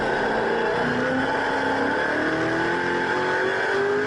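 A Ford race car engine at Phillip Island accelerates hard, its steady roaring note climbing in pitch as it pulls through the gears, loud and continuous throughout.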